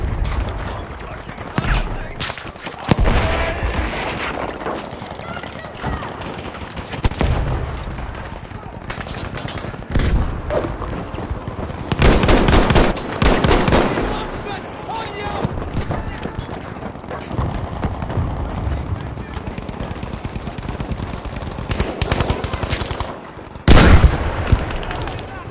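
Artillery barrage in Battlefield 5 during a Breakthrough defense match on the Rotterdam map: repeated heavy blasts and rapid gunfire bursts, with loud impacts around 12–14 and 24 seconds, under battlefield chatter.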